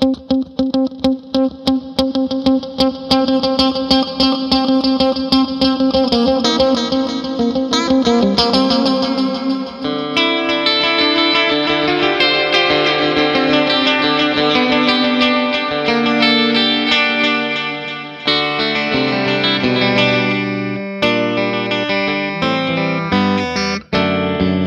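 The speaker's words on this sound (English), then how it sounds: "Full on reverb for some nice ambience." An electric guitar plays through an Ernie Ball Ambient Delay pedal with the reverb turned full, its plucked notes and chords trailing into long washy echoes and ambient tails across a continuous melodic passage, no voices.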